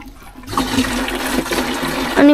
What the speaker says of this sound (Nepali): यो पानी चाहिँ कहाँबाट आउँछ? यहाँ भित्रबाट आउँछ, मूल फुटेको हुन्छ।